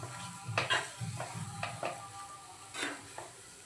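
A spoon stirs mango sheera with mango pulp and cardamom in a pan, making a series of scraping, clinking strokes at an uneven rhythm over a faint low sizzle.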